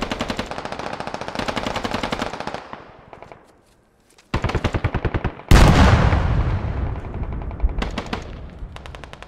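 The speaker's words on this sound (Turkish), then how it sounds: "Evet, oradan da atış geliyor." Loud bursts of automatic rifle fire from the military shooter game Squad rattle in rapid strings, pause into near silence, then return with a heavy blast and more sustained volleys.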